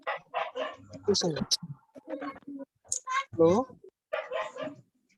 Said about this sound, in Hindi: ये कुत्ता किसके यहाँ भौंक रहा है?